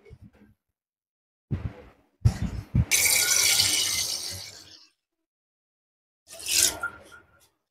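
Tap water runs into a pot for filling before it goes on an electric stove, in one longer gushing pour and a shorter second burst, close and fairly loud with quiet gaps between.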